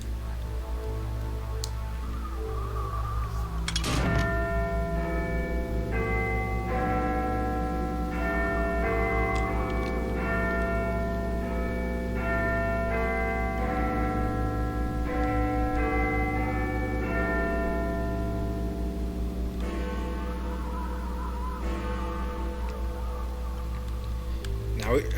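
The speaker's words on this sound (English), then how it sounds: "If we wait a bit longer, we can see it chime the hour again." A clock in a Half-Life 2 map chimes the hour, a sustained sequence of resonant bell tones over a steady low hum, with faint ticking and occasional clicks.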